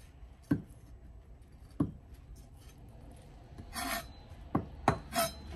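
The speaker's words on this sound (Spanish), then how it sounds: "lo que voy a tratar de hacer es quitarle las semillas al pepino y usar solo la parte más durita" A spoon or knife scraping seeds from a halved cucumber, a few soft separate rasping strokes, then a quicker cluster of scrapes near the end, close and fairly quiet with no talk.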